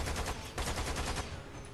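Rapid gunfire in the video game Lost Planet 2, a dense burst of repeated shots at a quick, even rhythm, loud and close with no talk over it.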